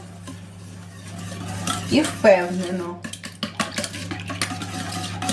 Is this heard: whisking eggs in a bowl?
yes